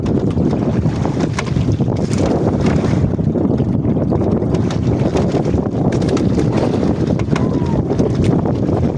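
A loud, continuous, shaky small boat engine roars under way at sea with heavy wind buffeting, steady and close throughout.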